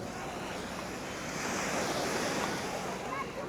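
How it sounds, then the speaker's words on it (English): Ocean waves wash onto a beach in a steady, broad roar of surf, with wind buffeting the microphone throughout; no one speaks. "Ooh, you guys see the waves there?"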